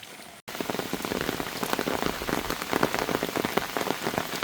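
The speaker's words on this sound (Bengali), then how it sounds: "প্রচুর বৃষ্টি হচ্ছে" Heavy rain pours steadily onto a paved road, a dense, continuous wash of close drops with no talk, broken only by a brief gap at the very start.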